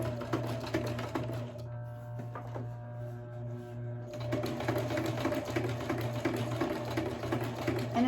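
A sewing machine stitches a scrapbooking page, a close, steady mechanical whirring hum with rapid needle chatter that briefly slows and pauses in the middle before running again, with no talk.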